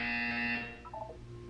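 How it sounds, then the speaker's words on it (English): A Portal 2 game buzzer sounds as a loud, steady electronic tone lasting about half a second, alone, followed by a brief quieter descending chime. "You will hear a buzzer."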